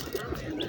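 Pigeons at a weekly Friday bird market, where ducks and chickens are also sold, give a brief low coo over a busy background murmur.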